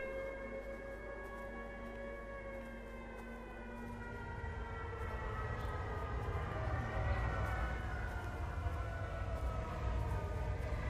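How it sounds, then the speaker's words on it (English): A wailing siren in the game Everybody's Gone to the Rapture holds steady, sustained tones that swell and grow louder over about eleven seconds, with no one talking. "You think the siren's getting louder?"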